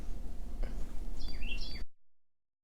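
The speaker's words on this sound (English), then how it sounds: "There was a bird right outside my window." A few short, high bird chirps, faint against a soft background hiss, before the sound cuts off abruptly.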